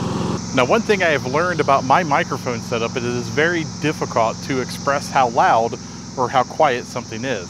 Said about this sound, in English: You may actually hear some cicadas in the background because,